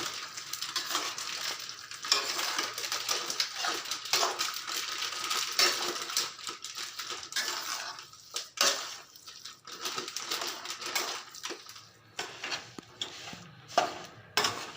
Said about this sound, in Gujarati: બસ હવે વ્યવસ્થિત રીતે મિક્સ કરી લેવાનો છે ગોળને